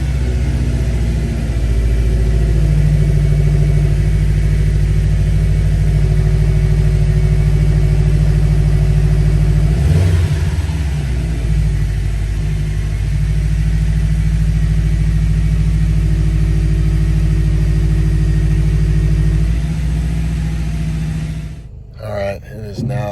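A car engine runs steadily after a Getadom mod and Verus AOS install: a loud, continuous low rumble with a brief rev in the middle, people talking over it, and a clunk near the end.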